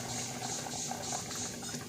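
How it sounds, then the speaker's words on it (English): A pot of Southern-style pork souse bubbles at a rolling boil after hot water is poured in, a steady close gurgling and churning of liquid with no talking. "And that's just going to keep boiling because the water is hot."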